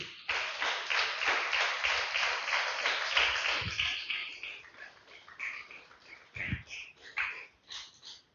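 A church congregation claps together in a dense, rhythmic burst that gradually thins into scattered claps, with some faint voices mixed in.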